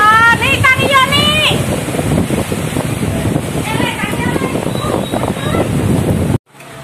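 Strong wind from a whirlwind storm striking homes in Bangorejo, Banyuwangi, a loud continuous gusting roar that buffets the microphone while voices talk over it, cutting off abruptly near the end.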